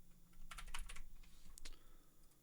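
Quick clusters of keystrokes on a computer keyboard while entering text for a game-engine test, a brief burst of clicks followed by a few more taps, close and fairly soft.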